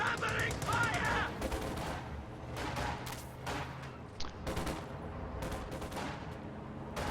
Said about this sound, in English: Covering fire! Covering fire!